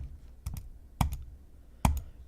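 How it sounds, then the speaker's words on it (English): Three sharp computer mouse clicks, each one a quick double tick, spaced about half a second apart, close and fairly faint over a low hum. "can you hear my mouse clicks"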